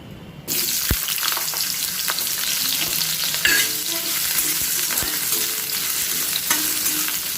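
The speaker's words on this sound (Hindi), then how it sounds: "आउ आलू के टिके पहला भाजी देमा।" Potato pieces frying in hot oil in a pan, a loud continuous sizzle starting abruptly after a short quiet moment, with occasional clinks and scrapes of stirring throughout.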